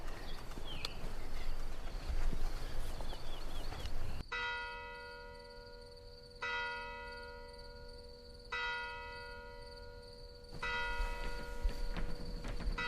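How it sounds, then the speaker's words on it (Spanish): Church bells ring out clearly and alone, long sustained tolls with overlapping harmonic hum, struck again in a slow, spaced sequence after a noisier stretch of outdoor ambience. "¿Y esas campanas de dónde son? Si por aquí no hay iglesia."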